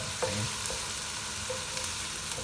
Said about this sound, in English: it's about a minute for the pulses to be sauteed in the oil